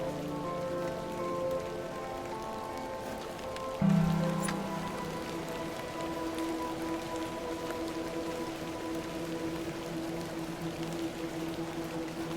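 Steady rain patters in the point-and-click game The Excavation of Hob's Barrow. It is a constant soft hiss, with a low tonal hum running through it and a brief thump near the four-second mark.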